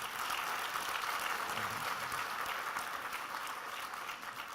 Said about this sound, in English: Can we clap for Dr. Martin and Mrs. Martin?